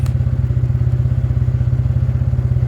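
A TVS Ntorq 125 motor scooter engine idles nearby with a steady, rapid putter, loud and even, with no one speaking.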